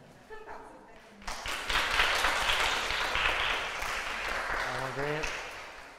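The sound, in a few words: audience applause for artist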